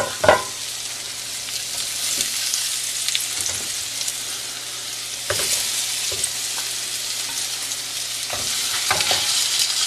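Breaded bone-in pork chops frying in olive oil in a hot pan, a steady bright sizzle with occasional louder crackles and pops, close up and without any voices.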